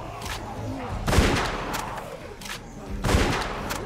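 Shotgun blasts in The Walking Dead video game, two loud booming shots about two seconds apart, with smaller bursts and noise between them.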